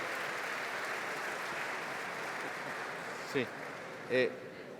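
Audience applause at a panel on corporate environmental management in Argentina, a steady, even hiss of many hands clapping at moderate volume, with a couple of brief voice bursts near the end.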